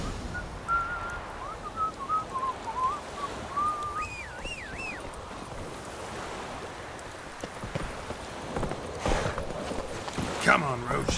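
Horse hooves clop at a walking pace in The Witcher 3: Wild Hunt, a steady rhythmic patter under whistled melodic tones and a soft outdoor ambience, growing louder and busier toward the end.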